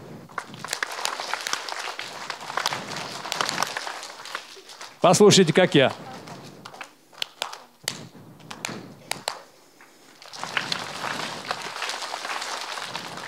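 Rhythmic hand clapping in a children's university class on symmetry, sharp claps followed by longer ones in a patterned sequence, mixed with a group clapping along, shuffling, thuds and a speaking voice.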